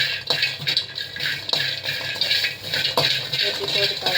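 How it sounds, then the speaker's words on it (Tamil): Garlic cloves are lightly sautéed in a pan while being stirred, giving steady close scraping and clinking of a utensil against the pan over a soft continuous sizzle, with no talking. "பூண்டுக்கு பல்லெல்லாம் எடுத்து நல்லா கொஞ்சம் லைட்டாக வதக்கிக்கலாம்."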